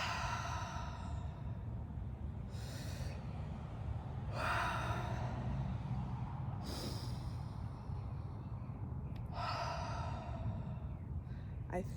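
Slow, deep breaths, about four long airy inhales and exhales spaced a few seconds apart, close and clear over a low, steady background hum.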